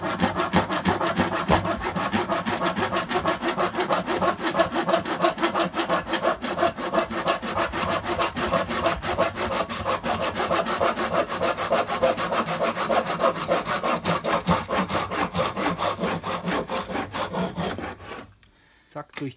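A hand saw cuts through oak wood in steady, rapid back-and-forth strokes, close and loud for nearly twenty seconds before the rasping stops abruptly.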